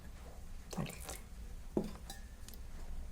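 Water goes into thick urad dal dosa batter and gets mixed by hand, giving a few faint, wet squishes and drips against a quiet kitchen background.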